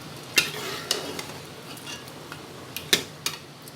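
Chicken with potatoes and peas sizzles quietly in a pan while a spoon scrapes and clinks against it in a few sharp, irregular strokes.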